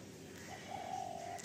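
A Madrasi red pigeon gives a single soft, drawn-out coo, faint and brief against a quiet background.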